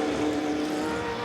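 Historic race cars roar past at the Goodwood Revival Whitsun Trophy, a loud, sustained engine note with a steady droning pitch as they pass down the start-finish straight.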